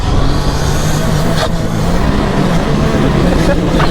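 A turbocharged Can-Am Maverick R UTV with 355 horsepower runs fast uphill on the Little Sahara sand dunes, its engine a loud, steady roar with wind rush and no break.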